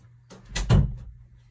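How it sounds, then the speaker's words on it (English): A door swings shut indoors in a home craft room, giving a short soft thud with a slight rattle that fades quickly. "And let me close the door."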